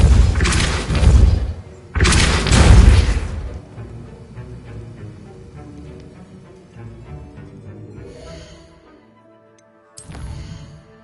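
A Depulso spell cast in Hogwarts Legacy lands as two heavy, booming magical blasts in quick succession, trailing off into a low rumbling tail with one more sharp burst near the end.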